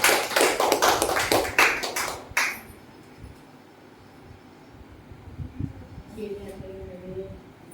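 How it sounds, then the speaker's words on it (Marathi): Congregation at a Sunday church service clapping hands in a brisk, dense burst for a couple of seconds, then stopping abruptly, followed by quiet room noise and faint murmuring voices. "टाळ्या वाजवून देवाचे आभार मानू."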